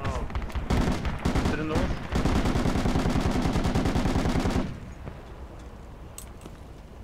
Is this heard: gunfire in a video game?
yes